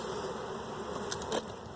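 Dense, steady buzzing of many honeybees swarming around an open hive during an inspection, a continuous close insect drone with a few sharper wingbeat spikes and no talking.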